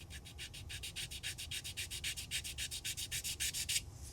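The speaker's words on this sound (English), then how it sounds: "After finally finishing the sanding" Rapid rhythmic rubbing of sandpaper on a small die-cast Hot Wheels car body, steady back-and-forth strokes, close and fairly quiet, ending abruptly.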